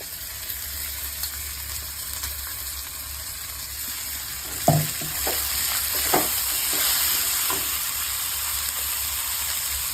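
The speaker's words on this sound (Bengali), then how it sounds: "এবার এই পেস্টটা একটু এর সাথে ভেজে নেব।" Chicken paste frying in a wok with onion, ginger, garlic and green chilli, a steady soft sizzle with a few sharp stirring scrapes partway through, close and without talk.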